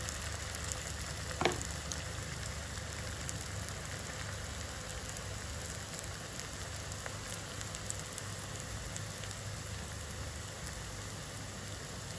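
Falafel fries in oil over a low flame, a steady close crackling sizzle that holds evenly throughout, with one brief clink near the start.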